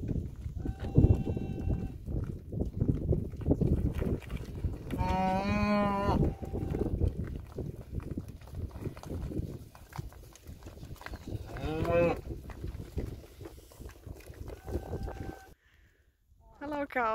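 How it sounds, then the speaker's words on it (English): Cattle mooing in an open field on Pico Island in the Azores, several long drawn-out lows from nearby cows with a steady outdoor background. "Hello, cows."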